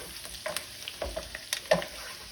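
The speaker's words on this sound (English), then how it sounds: "Throw some mushrooms in. Throw our garlic in." Mushrooms and garlic with fresh thyme frying over medium-low heat in a pan, giving a soft, steady sizzle broken by a few sharper crackles and light stirring scrapes, close and quiet with no talking.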